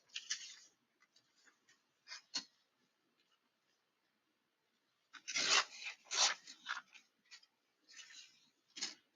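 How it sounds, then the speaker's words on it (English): Close, sparse scraping and snipping as the bottom edge of a paper journal cover is trimmed, short dry bursts separated by quiet gaps, busier in the second half. "I may have to trim off a little bit on the bottom of this one"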